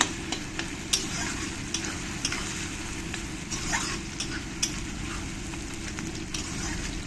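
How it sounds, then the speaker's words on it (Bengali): Onions fry in butter over a medium flame for butter mutton curry, a steady close crackling sizzle broken by occasional sharp spatters and light stirring taps. "বাটারটা দিয়ে আবার কিছুক্ষণ ফ্রাই করতে হবে"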